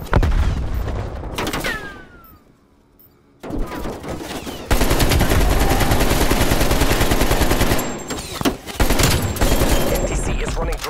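Rapid automatic gunfire bursts and explosions from Call of Duty Black Ops Cold War, loud and dense, with a brief quiet gap before sustained heavy firing, game voice callouts mixed in.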